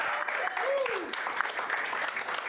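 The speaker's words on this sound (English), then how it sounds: "give yourselves a round of applause again for being here" Comedy show audience claps in a close, sustained burst, with a voice speaking over the applause.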